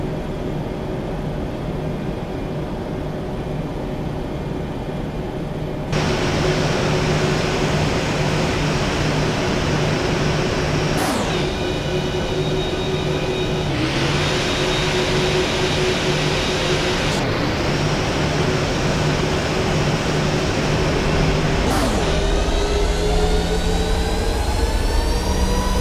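Ryanair airliner jet engines spooling up to takeoff thrust in a flight simulator, a steady loud roar that swells and rises in pitch, with whining tones sweeping upward as power builds.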